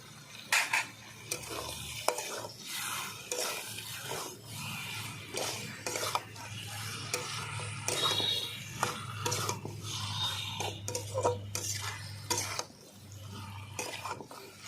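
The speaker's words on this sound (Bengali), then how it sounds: "চিকেনটাকে আমি দু থেকে তিন মিনিট ভালো করে কষিয়ে নেব" Chicken pieces with black pepper powder are stirred and sautéed in a pan for a chicken and potato curry: repeated scraping strokes of a spoon against the pan over a steady low sizzle, close and clear, with no talking.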